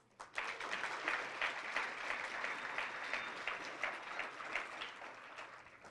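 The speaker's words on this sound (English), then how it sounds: "you all deserve another round of applause" An audience at an employee gathering bursts into steady applause, many hands clapping densely for several seconds before slowly tapering, heard fairly distant in a large room.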